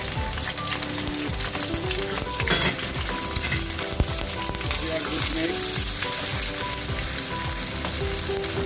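Garlic and ginger paste frying in a pan over medium heat with bay leaf, cardamom and cinnamon stick for a chicken kofta curry, a dense continuous sizzle with frequent scraping and clinking stirs, close and steady, no talking.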